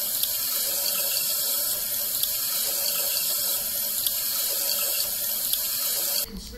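Water runs steadily from a tap in a continuous, bright splashing rush, close and loud for several seconds before stopping abruptly near the end.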